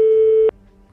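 A single steady telephone line tone from an orange Desigual phone sounds loudly for about half a second, then cuts off abruptly and leaves quiet room noise.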